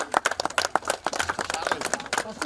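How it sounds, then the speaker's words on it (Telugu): Audience at a felicitation ceremony for a school batch reunion clapping, a dense run of quick, sharp, close hand claps that fills the whole moment at even loudness. "క్లాప్స్ కొట్టండి."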